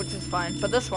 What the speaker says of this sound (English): And the phone's ringing, which is great.